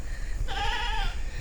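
One drawn-out, quavering bleat from a goat on a mountain hiking trail, fairly near and clear. It sounds alone above a low, constant outdoor hum.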